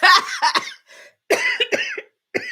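Several harsh, loud coughs in quick bursts, with short pauses between the fits, close to the listener.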